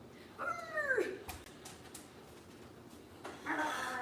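Dogs inside a home give a couple of high, wavering whines or yelps, one longer burst early and a shorter one near the end, fairly close over a quiet room.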